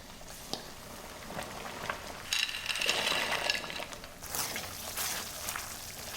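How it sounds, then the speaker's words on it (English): A pot of pasta water bubbles at a rolling boil, soft gurgling and popping close by, with a few faint clinks. "Pasta water is boiling, we salt and we toss the pasta."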